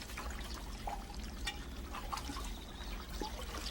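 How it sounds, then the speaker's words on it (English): Spring water piped continuously into a stone basin beside a carp pool at a Japanese rural home, a soft steady trickle and splash with faint drips, gentle and close. "A continuous stream of spring water is piped right into a basin, so fresh water is always available."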